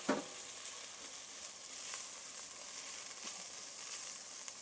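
Ground coriander, cumin and turmeric toast in hot oil in a pan, giving a steady close sizzle broken by small scraping stirs, with no talking over it.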